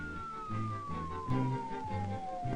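A police car siren wails as the car speeds past, a steady falling tone over low rumbling road and engine noise, moderately loud.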